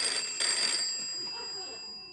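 A telephone rings with a bright electronic trill on a late-night talk-show stage, two short bursts close by, then fading into quiet room noise.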